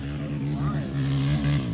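A Honda TRX700XX or Honda Odyssey FL350 ATV engine revs hard and holds against the rev limiter, a steady buzzing drone that stays loud and close throughout.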